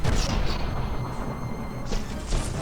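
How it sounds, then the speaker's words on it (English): A stone battleship called the rhino takes an explosion during a From The Depths battleship tournament. Dense, continuous battle rumble fills the scene, with sharper bursts punching through near the start and again toward the end. "There was an explosion on this stone rhino."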